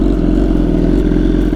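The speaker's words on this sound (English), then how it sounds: "I get you guys a warm start and a couple revs." A warmed-up motorcycle engine runs close and loud, with a steady, throbbing idle and a slight rhythmic clatter, no voices over it.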